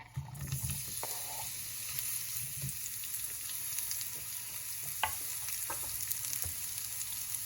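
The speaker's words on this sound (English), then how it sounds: "we're going to saute these really lightly" Onions softly sautéing in olive oil in a pan over medium heat, a faint, even background sizzle with a few light stirring taps and knocks, quiet and no voices.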